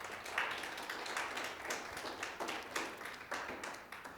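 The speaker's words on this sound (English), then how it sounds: "Let's give all them a round of applause." Audience applause at a university religious inclusion symposium, a few seconds of scattered, uneven hand claps with distinct individual slaps, moderately quiet and fading slightly toward the end.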